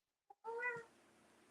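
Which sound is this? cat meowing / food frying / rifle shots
cat meowing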